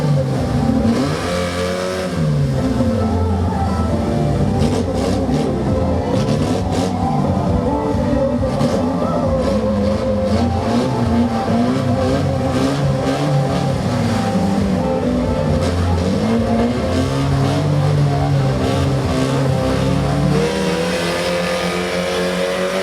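Race cars at a drag race event in Cachoeira do Sul, engines roaring and revving up and down with rising accelerating pitch, loud and close throughout with no talk.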